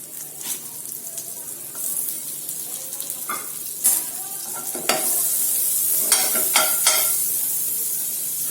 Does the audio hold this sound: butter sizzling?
yes